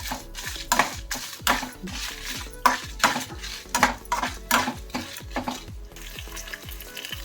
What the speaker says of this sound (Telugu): అలాగే పచ్చిమిరపకాయలు ఇవన్నీ దూరగా వేయించుకోవాలి ఇవన్నీ కొద్దిగా దూరగా వేయించుకుందాం